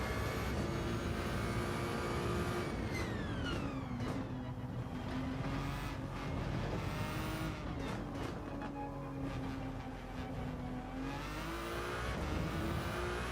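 A high-revving Ferrari race car engine in Gran Turismo 7 roars continuously, pitch rising and dropping with gear shifts, loud and close without any talking.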